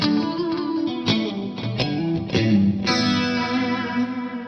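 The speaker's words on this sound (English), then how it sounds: "I also use two different delay. One is low level delay, the second one is high level." An electric guitar plays through an '80s-style rig with two delay settings, low and high level, its repeated notes and chords trailing off in echoing repeats, with no talking.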